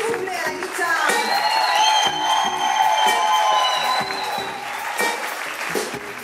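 Concert audience applauding and cheering after a live performance of a song, steady dense clapping with whoops and sustained shouts throughout, fairly close and loud, with a voice heard over the crowd.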